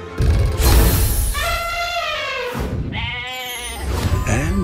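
A goat bleats loudly in two long, wavering cries over a noisy background, with a brief rumble at the start.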